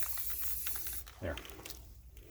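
An aerosol can sprays white paint lightly across a plastic wolf target, giving a soft hiss at close range for about a second before fading into quieter handling noise.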